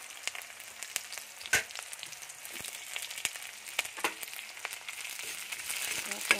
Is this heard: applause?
no